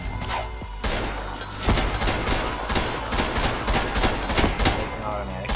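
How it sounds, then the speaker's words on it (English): Automatic shotgun blasts in the video game Ragdoll Universe, a dense run of rapid booming shots over a steady loud background, with a voice talking underneath. "It's an automatic shotgun."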